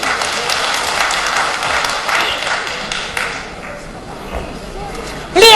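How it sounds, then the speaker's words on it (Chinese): An audience at a Ningbo Xiaobaihua Yue opera broadcast concert applauds in a loud, dense burst that gradually thins and fades over a few seconds before a new sound cuts in at the end. "掌声响起"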